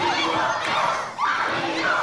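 A fight-night crowd cheers loudly at a live fighting event, a sustained roaring swell of voices that dips briefly midway and then rises again.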